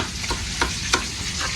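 Food frying in a pan and being stirred, a continuous sizzle broken by a few quick scraping strokes.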